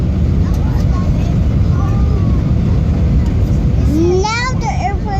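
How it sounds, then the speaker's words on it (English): Airplane cabin during landing on approach to Phoenix, Arizona: a loud, steady broadband engine and air roar fills the cabin throughout, with a voice and brief talk rising near the end. "Yep, this is exactly where the airplane's landing."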